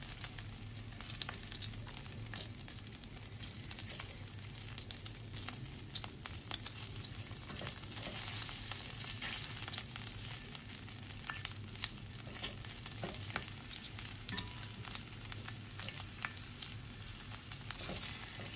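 Garlic, onions and chilies frying in oil for enfrijoladas, a continuous soft crackling sizzle with fine popping, even and close throughout.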